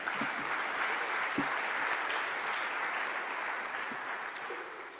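An audience applauds for Leon Panetta at an evening event, sustained broadband clapping from a large crowd, steady and fairly loud before tapering slightly at the end.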